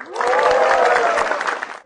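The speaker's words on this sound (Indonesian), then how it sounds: "Tepuk tangan yang meriah buat Fajar Nugra." A short burst of crowd applause at a stand-up comedy show, clapping swelling quickly and fading out after a couple of seconds.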